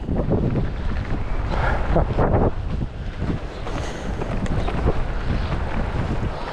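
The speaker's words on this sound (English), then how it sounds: "The wind is strong, very, very strong." Strong wind on the Coast to Coast trail buffets the microphone in loud, roaring gusts, with a constant rumbling rush and no voices.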